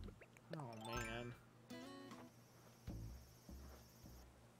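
A brown cicada chirps in the video game Animal Crossing New Horizons, a faint buzzing drone heard alongside a few brief tonal game sound effects.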